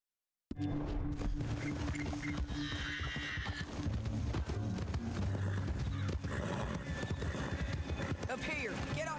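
Horse hooves in Red Dead Redemption 2, a steady clip-clop of a galloping horse running continuously over several seconds with a snort or whinny, while people talk over the riding.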